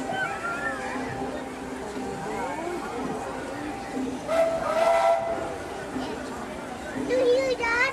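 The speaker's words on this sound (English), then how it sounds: "It's a choo-choo." Train whistle at a Disney park, heard as a faint steam-style tone rising briefly over a busy crowd with people talking nearby.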